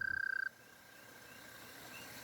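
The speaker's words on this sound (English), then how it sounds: "The toads were calling out as well, and the competition was fierce." Toads call from a backyard pond, a fast pulsing trill that stops after half a second, followed by fainter steady trilling and insect-like chirps in the night background.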